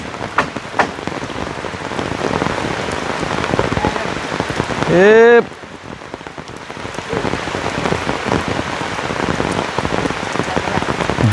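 Steady heavy rain pours down close by at a rural hut building site, hissing continuously across the whole stretch, with one brief tonal call rising out of the downpour midway.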